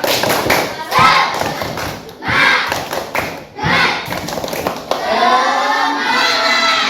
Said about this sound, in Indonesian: Tepuk tangan untuk kelas 5